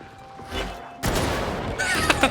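Enemy sniper shots in the co-op shooter Warhammer 40,000: Darktide, a sharp loud crack followed by a sustained rumbling blast and scattered impacts, heard close and prominent over the game's ambient noise.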